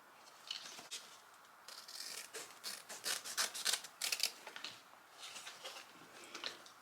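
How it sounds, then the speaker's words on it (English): Scissors snip through the seams of a pillow in a quiet room, a run of close, crisp cuts and rustles of fabric with short pauses between them. "I'm just gonna go ahead and cut in the seams of the pillow here to cut it apart."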